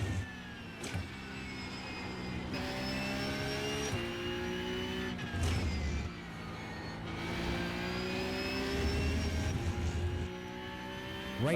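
Race car engine in iRacing, a sim-racing game, revving hard through hairpins, with downshifts under braking and rising pitch on throttle; continuous, loud, close-up engine tone with repeated drops and climbs.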